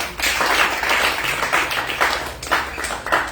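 A church congregation claps together in acclaim of Jesus Christ, a lively crowd of hands beating in a steady rhythm, close and full, with no voices over it.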